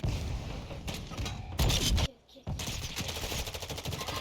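Explosive shotgun slug rounds fire in Modern Warfare 2 gameplay, a quick series of sharp blasts with a brief pause, then more shots over game noise.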